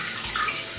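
Water pours into a pressure cooker holding cooked octopus, a brief steady close gush of running water with no talking.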